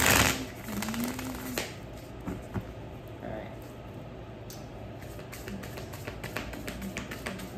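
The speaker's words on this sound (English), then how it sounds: "I like to be a little bit extra thorough when I shuffle" Tarot cards being shuffled by hand make soft, quick riffling taps and shuffling bursts, faint and close, with someone speaking over them.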